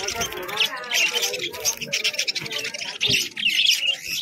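Caged birds, including budgerigars and pigeons, chirp and tweet in quick bursts at the crowded Beldanga bird and pigeon market in Murshidabad, while people talk nearby.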